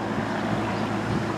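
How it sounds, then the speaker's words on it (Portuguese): Strong wind roars steadily, a dense rushing and buffeting noise that fills the whole moment with no voices. "Uma ventania danada"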